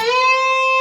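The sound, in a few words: electric guitar string bent up a tone and a half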